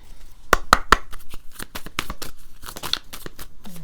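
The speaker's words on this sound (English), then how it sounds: "I'm having a hard time shuffling" Tarot cards are shuffled by hand in a series of sharp, close riffles and flicks, irregular and crisp, with no voices over them.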